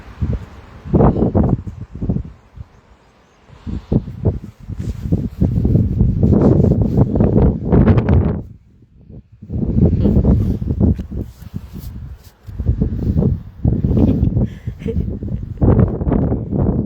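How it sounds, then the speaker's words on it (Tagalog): Strong wind buffets the microphone in loud, roaring gusts that come in waves, with brief quieter lulls between them. "Ang lakas ng hangin sa earth."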